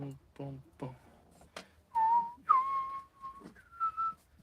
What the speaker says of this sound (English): Don't whistle on a camera phone.